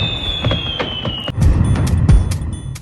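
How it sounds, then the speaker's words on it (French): Firecrackers pop in rapid, scattered cracks in Senegal, some sharp and close, others duller, forming an uneven string of bursts that thickens in the second half. "l'utilisation des pétards avait fait objet d'interdiction l'année dernière au Sénégal"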